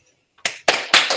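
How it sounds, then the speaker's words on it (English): A class applauding, a short close burst of clapping in three quick surges lasting about a second, with no voices. "You may applaud."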